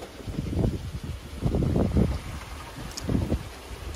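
Strong wind rushes over a single-handed sailboat at sea on the way to Cabo San Lucas, in heavy buffeting gusts that swell and fade in repeated surges.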